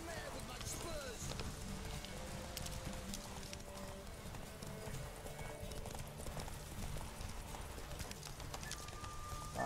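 Horse hooves gallop in The Witcher 3 video game, a steady, fast clip-clop rhythm that runs throughout with game sounds, a brief whinny, and a voice talking over it.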